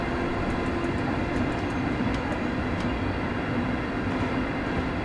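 Steady electric train rumble and hum in Train Simulator Classic on the Glasgow to Dunblane and Alloa route, running continuously, with a faint high whine and a slight dip in power before it picks back up.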